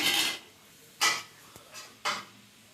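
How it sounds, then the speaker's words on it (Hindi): Onions go into hot oil in a pan, giving three loud hissing sizzle bursts about a second apart, each fading quickly, close up with no talk. "ऑयल को गर्म होने के बाद इसमें डालेंगे हम प्याज"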